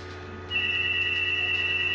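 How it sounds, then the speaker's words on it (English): A telephone rings with a faint, steady electronic tone that starts abruptly partway through and holds over a low background hum. "There's a phone ringing."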